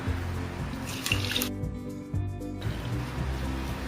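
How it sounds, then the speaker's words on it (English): Water poured over freshly strained chhena in a cheesecloth-lined colander, a steady close splashing and trickling that runs the full few seconds, with a brief sharper gush near the middle. "Now add some water."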